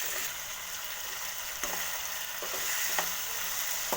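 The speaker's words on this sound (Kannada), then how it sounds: "ಟೊಮೆಟೊ ಸ್ವಲ್ಪ ಸಾಫ್ಟ್ ಆಗೋ ತನಕ ಹುರ್ಕೊಳ್ಳೋಣ." Two tomatoes fry in a pan for a soybean gravy, a steady, close sizzle broken by several sharp scrapes of the spoon as they are stirred.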